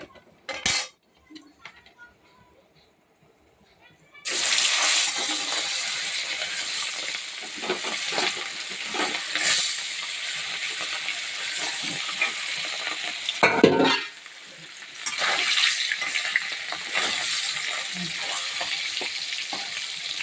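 Fish frying in hot oil in a pan: after a few seconds of quiet clinks, a loud, steady sizzle starts and runs to the end, with occasional utensil scrapes. There is no talking.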